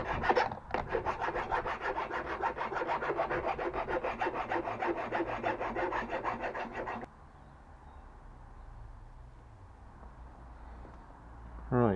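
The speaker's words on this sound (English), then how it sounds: "I'll just sharpen my point a little bit more. I'll file it a bit" A metal file rasps rapidly back and forth across a nail point, close and steady for about seven seconds. It stops abruptly, leaving faint room noise until a brief knock at the end.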